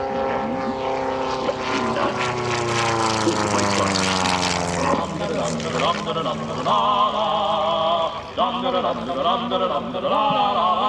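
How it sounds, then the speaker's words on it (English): A light aircraft's engine and propeller drone loudly through an aerobatic display at EAA AirVenture, the pitch sweeping down and then rising and wavering as it maneuvers, with crowd chatter and an announcer's voice underneath. "The show you're about to see is flown in an aircraft that was never meant to do aerobatics"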